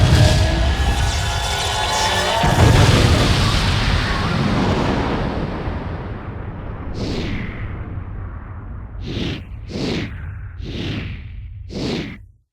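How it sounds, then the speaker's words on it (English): Eclipse Cannon firing to destroy the comet in a Shadow the Hedgehog game cutscene: a loud roaring blast and rushing whoosh that slowly fades, followed by several sharp separate bursts. "uses the Eclipse Cannon to destroy the comet, defeating Black Doom and the Black Arms for good"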